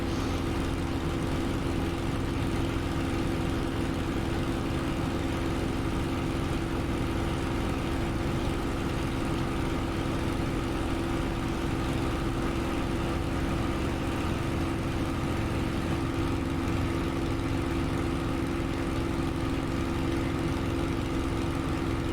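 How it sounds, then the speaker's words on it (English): Supermarine Spitfire with a Merlin engine in a flight video game, a loud, steady engine drone that holds unchanged from start to end with no talk over it. "Listen to that Merlin engine."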